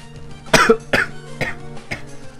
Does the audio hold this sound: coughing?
yes